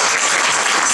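Applause for an instrumental ensemble on stage at a concert, a dense, steady wash of clapping filling the whole moment with no voices over it.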